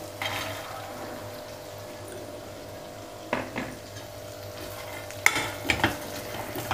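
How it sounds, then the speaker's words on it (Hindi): Cut potatoes being stirred into masala frying in a pan for black chickpea tahri, a soft steady sizzle with occasional scraping and clinking of the spoon against the pot, heard close. "हमने मसाले में जो आलू कट करके मैं रखी थी उसको मिक्स कर दी हूँ।"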